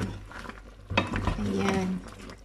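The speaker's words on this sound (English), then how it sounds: "we just stir so the sauce get it on" A creamy crab sauce thickened with cornstarch and water is stirred in a pan, giving soft scraping and a gentle sizzle that swells after the first second and holds steady, close and moderately quiet.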